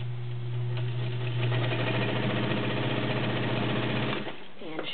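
A Kenmore model 1204 zigzag sewing machine runs steadily with a loud, even mechanical whir and hum, then slows and stops near the end.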